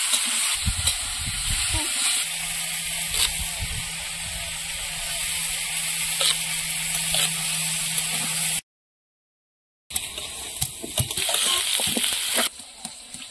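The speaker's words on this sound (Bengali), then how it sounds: "মাছের ঝোলের আলুগুলো ভাজা হয়ে গেছে," Potatoes seasoned with salt and turmeric fry in oil in a pan for a katla fish curry, with a close, bubbling sizzle and scattered scraping stir sounds, broken by a brief silent gap before the frying resumes.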